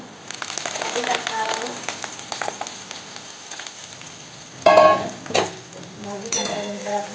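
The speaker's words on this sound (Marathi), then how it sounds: "लसूण आपल्याला लाल रंगाचा ब्राऊन होईपर्यंत आपल्याला फ्राय करायचा आहे" Garlic fries in a pan until brown, giving a steady sizzle with occasional stirring scrapes and clinks, a louder clatter near the end, while someone talks over it.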